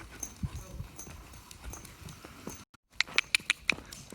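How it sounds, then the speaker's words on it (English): A horse with a stiff joint trots nearby in hoof clip-clops, soft and irregular at first, then a crisp run of evenly spaced, louder strikes after a brief gap. "she has trouble trotting this way, as you can see"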